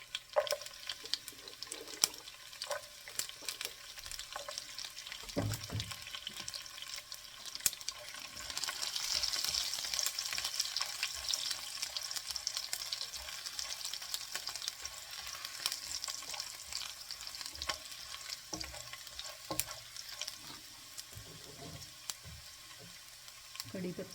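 A tempering of spices sizzles in hot oil as long garlic pieces go in for an okra fry masala, a faint, crackling fry with occasional clinks and stirring over a quiet kitchen.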